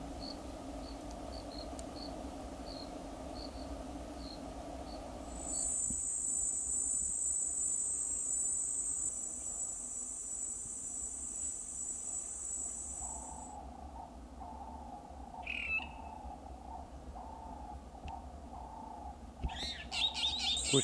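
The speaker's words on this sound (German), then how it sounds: "an der mich die Geräusche der Grillen bald in den Schlaf singen werden" Night insects and crickets trilling near a campfire at a campsite in Namibia's Kaokoland, faint and continuous, with a high, sustained chirping stretch and scattered short calls later on.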